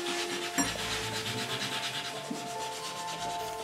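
Brass fittings on a 1930s leather object are rubbed clean with a steady, close scratchy friction, repeated in short strokes with no talking.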